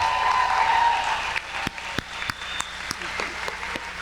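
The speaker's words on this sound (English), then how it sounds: "Class of 2023, give them a huge round of applause" Loud, sustained audience applause fills a high school graduation ceremony for the Salem Academy Charter School class of 2023, then thins into scattered, sharper claps as it fades.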